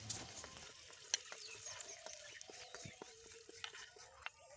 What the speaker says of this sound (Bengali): এরপর আরও যে আলুগুলো রয়ে গেল সেগুলো আমি একে একে ভেজে নেব